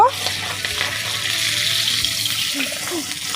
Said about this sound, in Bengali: এইভাবে লাল লাল করে মাছগুলো ভেজে নেব